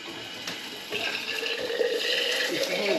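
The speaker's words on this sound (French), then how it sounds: "Bon, deuxième robinet." Water runs steadily from a tap at a refill stop during a long-distance gravel bike race, a close, continuous splashing hiss that grows fuller after the first second.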